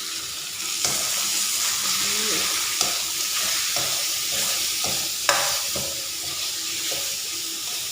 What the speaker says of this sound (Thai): แล้วก็ผัดรวมกันเลยผัดให้หอม